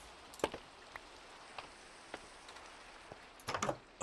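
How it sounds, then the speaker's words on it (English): Rain falls softly in the Minecraft game, a faint steady hiss broken by scattered taps and a small cluster of louder knocks near the end. "of course it starts raining."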